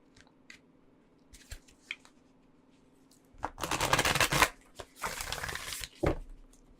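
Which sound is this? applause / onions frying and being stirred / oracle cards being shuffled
oracle cards being shuffled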